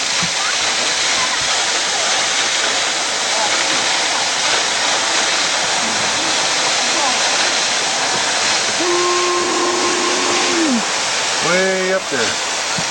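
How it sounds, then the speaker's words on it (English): A large fountain in Germany gushes water in a steady, loud rushing roar that fills the whole stretch, with a whistle-like tone and people's voices briefly over it near the end. "look at that water go"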